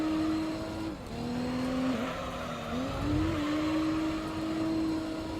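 An Audi TT racing car in Gran Turismo 3 drives with a steady, high engine drone that dips and climbs as it takes corners, and tires squeal briefly in places. No voices are heard.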